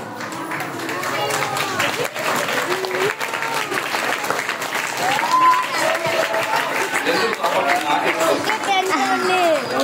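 An audience at a school function claps steadily, with shrill whistles and cheering voices rising over the applause. The crowd noise builds and stays loud throughout.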